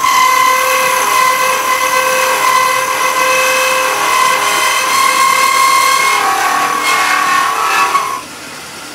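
Wood lathe turning a Christmas pyramid piece while a quarter-inch parting tool cuts a tenon, a loud continuous tonal whir with scraping cutting noise that rises briefly near the end before dropping off.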